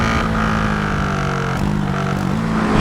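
A GasGas SM 700 supermoto engine revs hard with a quickshifter, giving a steady, loud, close drone with brief dips and pitch steps as gears change.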